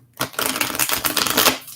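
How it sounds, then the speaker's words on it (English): A deck of tarot or oracle cards being shuffled by hand, a close, dense riffling flutter that runs nearly continuously for over a second with brief pauses between bursts. "just two more shuffles here"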